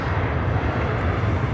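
An Asiana Airbus A380 airliner at LAX airport produces a steady, loud jet engine roar that fills the short stretch without pause or talk.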